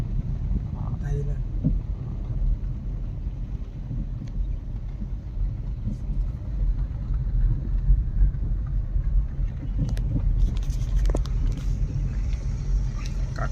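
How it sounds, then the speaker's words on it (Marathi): A car drives along a road near a river on the way to Goa, heard from inside as a continuous low engine and road rumble with some wind noise and a few faint bumps and rattles. "गाडीने फिरतोय बघ, काकांच्या गाडीतून"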